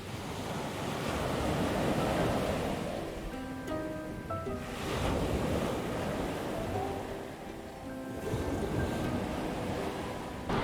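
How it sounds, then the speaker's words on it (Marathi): Surf rolls in and washes up on a clean, quiet beach at Vengurla on the Konkan coast, with loud, continuous breaking waves swelling and receding in broad surges and steady wind across the microphone. "बीच हा वेंगुर्ला तालुक्यातील एक अत्यंत सुंदर, स्वच्छ आणि शांत समुद्र किनारा आहे"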